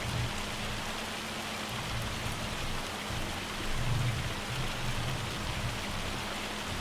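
A hailstorm in the video game Farming Simulator 25 gives a steady, even patter of falling hail and rain with a low rumble underneath, moderately quiet and continuous, without talk.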